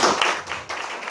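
Brief audience applause at an indoor seminar, a short burst of clapping that fades and swells again.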